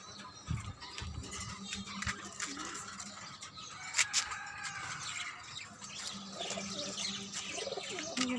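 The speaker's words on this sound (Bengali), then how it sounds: "এদিকে ঘুঘু পাখি সুন্দর" Doves coo among pigeons kept on a rooftop garden with chickens, chili plants and banana trees, repeated soft calls with other bird chirps over steady outdoor background noise.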